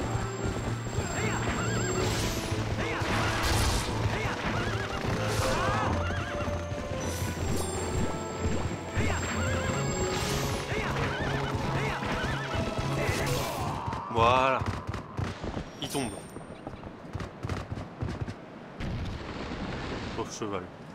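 A horse neighs and whinnies loudly in Zelda: Twilight Princess during the Ganondorf boss fight, with clip-clop hooves, booming impacts and dense game music throughout.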